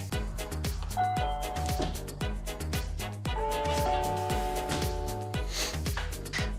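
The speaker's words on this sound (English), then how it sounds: "let's try the doorbell" A Nest Hello video doorbell chimes repeatedly, ringing tones sounding several times in a regular pattern over a busy background.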